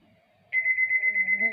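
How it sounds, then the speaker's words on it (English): A phone alarm set for the early morning goes off, a loud steady pulsing electronic tone that starts abruptly and repeats in quick even beats, with faint talk underneath before and during it. "sat up and silenced her alarm"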